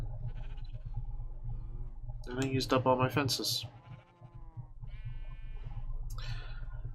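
Sheep bleating in Minecraft, several short wavering bleats close by, with a voice talking over and between them.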